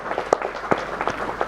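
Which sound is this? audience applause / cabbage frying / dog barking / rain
audience applause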